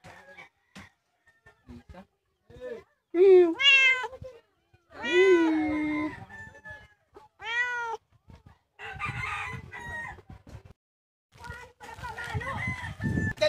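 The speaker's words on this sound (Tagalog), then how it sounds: "Ay, may pusa." A cat meows several times in a quiet outdoor spot, clear drawn-out cries with gaps between them, while a rooster crows and people talk briefly nearby.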